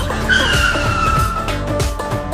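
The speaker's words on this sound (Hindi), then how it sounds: "आइसक्रीम वाला गाड़ी रुक गया" Cartoon ice cream vehicle braking hard to a stop, a loud sustained tire screech sliding down in pitch over engine rumble, lasting a couple of seconds.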